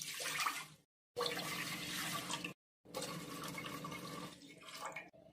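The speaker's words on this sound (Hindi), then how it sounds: "इसी सेम बाउल से हम 3 बाउल पानी ले लेंगे।" Water is poured into a pressure cooker for boiling black chickpeas, in three soft, splashy pours separated by short silent pauses.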